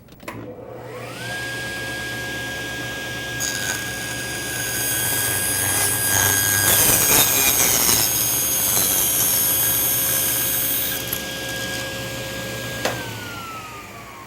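A table saw runs steadily for about twelve seconds while ripping thin 1/16-inch wood strips against a fence and stop block. A high sustained whine and broadband roar swell during the cut, with no voices.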